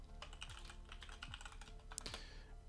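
Quiet, close keystrokes clatter on a computer keyboard in a brief irregular run of typing, with a faint low hum underneath.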